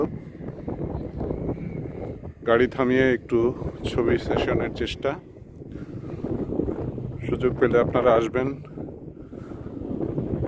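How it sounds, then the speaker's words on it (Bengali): Strong desert wind in Dubai roars and buffets the microphone in a constant low rumble, blowing sand, while someone talks over it outdoors. "খুব বাতাস বইতেছে,"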